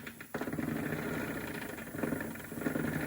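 A model steam engine fired by a spirit burner runs fast, with the boiler blowing off steam, giving a steady, quiet, even mechanical chugging beneath a constant hiss.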